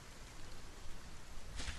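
Steady soft hiss of rain falling in the survival video game Solarpunk, even and continuous, with a brief brighter burst near the end.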